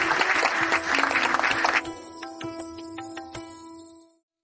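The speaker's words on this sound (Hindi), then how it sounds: "दरबार में तालियों की गड़गड़ाहट गूंज उठी।" Story sound effect of applause thundering through a royal court: a short burst of crowd clapping, then ringing musical tones that sustain and fade away into silence.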